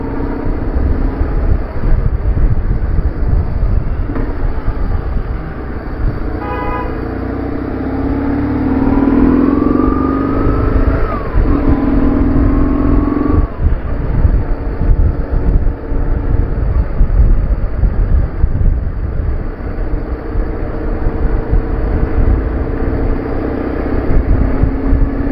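A BMW R850R motorcycle rides up a high street in Lincoln with a steady engine drone under heavy wind rush, and the revs rise and fall audibly midway through the ride.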